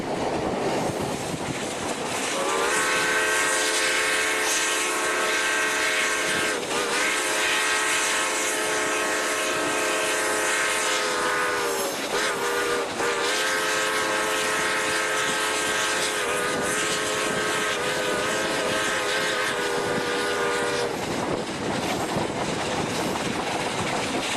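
A steam locomotive climbs a grade on Colorado's La Veta Pass, with rumbling exhaust and a sustained whistle-like tone over rail clatter, loud and continuous.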